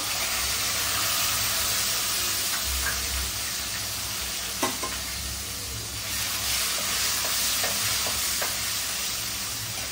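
Chopped tomatoes fry in a hot pan for dal dhokla, with a loud, steady sizzle and hiss throughout and faint stirring clicks near the middle.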